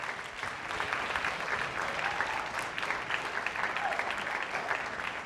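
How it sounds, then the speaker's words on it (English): Audience applause at the close of a 2018 fashion show, a dense, steady wash of many hands clapping throughout, fairly loud and sustained with no pause. "So we're asking for one more round of applause for everyone involved in the show"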